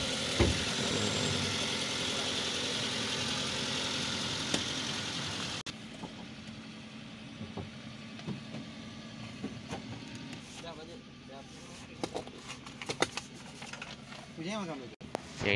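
A used car at a Cengkareng auction is started and left idling, its low, steady engine hum running under people talking nearby.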